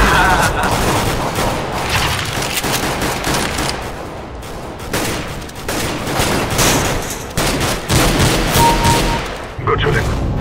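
Rapid bursts of gunfire from the video game Counter-Strike crackle through nearly continuous firefights, with loud repeated shots and overlapping volleys and occasional game voice announcements.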